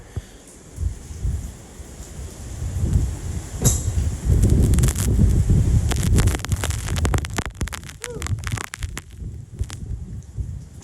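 Tropical Storm Gamma's wind roars and gusts against the microphone aboard a boat in heavy, rumbling surges, with rustling and rattling mixed in.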